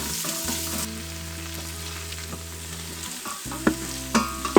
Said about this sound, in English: I'm going to saute my onions in the bottom of the pan.